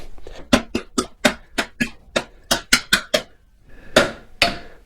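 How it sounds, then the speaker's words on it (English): A mallet taps a wheel axle through the hub of a Yamaha MT-03 or R3 motorcycle, about a dozen sharp, close knocks in an uneven rhythm, the last two louder and more spaced out. "Tap it with the mallet here a little bit."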